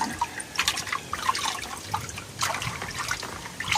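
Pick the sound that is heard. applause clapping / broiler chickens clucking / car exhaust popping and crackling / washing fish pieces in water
washing fish pieces in water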